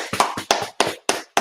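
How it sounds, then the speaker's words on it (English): Audience at an outdoor street gathering in Syracuse clapping in a short, loose rhythm of about six sharp claps with brief gaps between, close and fairly loud. "Clap it up."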